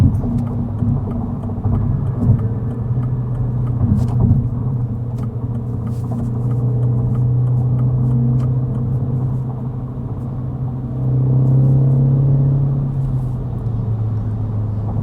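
Mini Cooper JCW engine pulling steadily from inside the cabin, a loud continuous low drone with slight swells as it accelerates through paddle-shifted gears in sport mode, no talking over it.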